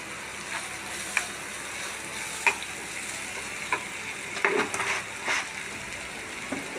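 Sliced onions soften in a pan with a pinch of salt, hissing gently and continuously while a spoon taps and scrapes now and then, with a brief busier burst of stirring near the end.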